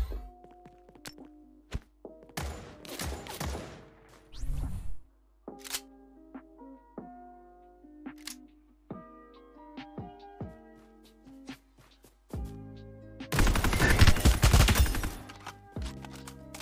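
Incoming bombardment explosions in the battle royale shooter Apex Legends land as a heavy burst of loud blasts late on, after scattered thuds, gunshots and interface tones across a sparse stretch of game sound.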